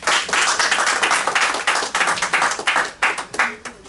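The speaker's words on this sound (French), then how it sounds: "Je vous prie de l'applaudir" Audience applause for a speaker at a World Mental Health Day gathering at a social intercultural centre, loud close clapping from a modest crowd that gradually thins into scattered individual claps toward the end.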